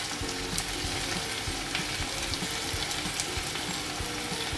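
Green chilies and curry leaves sauté in a hot oiled pan, giving a steady, close sizzle and crackle with occasional stirring scrapes throughout.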